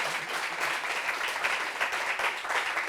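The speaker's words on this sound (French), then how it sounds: "Applaudissements pour ce couple-là." An audience applauds a couple on a talk show about mixed marriages, with dense, steady clapping throughout and no voices over it.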